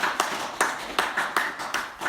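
A church congregation at a Sunday worship service clapping in unison to welcome visiting guests, a rhythmic run of about eight sharp, evenly spaced claps.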